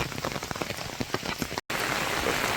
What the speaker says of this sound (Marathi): पाऊस तर भरपूर पडता